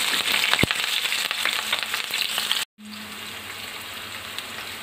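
Chopped onion and green chili sizzling in hot oil with cumin and dried chili, a dense crackling fry heard close, a single tap early on, then a brief cut before the quieter sizzle continues.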